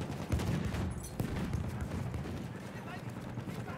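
Cannon fire from an airship's 25 mm gun in the video game Battlefield 1, a dense, distant-sounding barrage of repeated thumps and crackles blending into a rumbling background, fairly faint.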